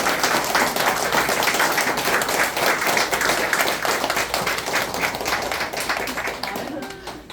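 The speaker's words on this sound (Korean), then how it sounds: "다시 한번 그분께 감사의 박수" Audience applause at a Seoul youth meditation-group 30th anniversary event, a dense, sustained round of clapping from a large crowd that fades out near the end.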